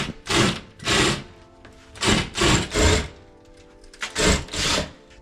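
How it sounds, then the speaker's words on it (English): Power drill boring holes into stucco to set wing anchors for mounting a TV, several short whirring bursts of a couple of seconds each, close and moderately loud, separated by brief pauses. "I have to use my old drill to drill holes. So I'm going to drill those holes out"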